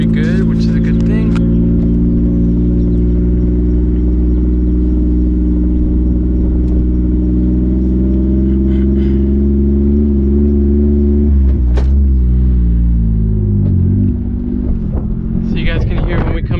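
Close, steady engine drone and drivetrain hum from a Mitsubishi Eclipse GTS with a bad manual transmission, running loud and even for a long stretch before shifting, dipping briefly and changing pitch near the end.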